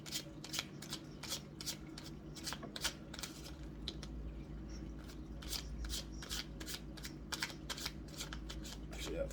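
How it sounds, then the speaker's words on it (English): Rapid riffle-shuffling of a tarot card deck, repeated in quick bursts throughout, close and crisp, with a low steady hum beneath and faint background voice. "One more shuffle."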